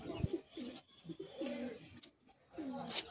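Madrasi pigeons in a loft giving several soft, low rolling coos in short bursts, near and fairly quiet, with faint background sounds between calls.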